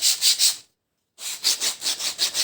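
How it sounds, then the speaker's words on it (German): A wooden part from a wood CNC workshop is sanded by hand, making rhythmic, close rubbing strokes: a few quick passes, a short pause, then a steady run of back-and-forth strokes with no talk. "Das können wir noch mal ein bisschen schleifen, dass es für die Hand schöner ist."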